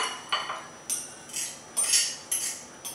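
Metal utensils clink and scrape against a bowl while a beet and avocado salad is tossed together, giving a series of about seven light, close-up clattering strikes spaced irregularly, with no talking.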